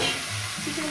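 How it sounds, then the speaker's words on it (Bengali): Chicken pieces fry over high heat in a pan for a Punjabi-style chicken curry, giving a brief, steady, close hiss and crackle of oil. "চিকেনটাকে দিয়ে এবার এটাকে ভাজবো।"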